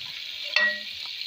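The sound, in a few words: sautéing hot peppers, bell peppers and sausage in a pan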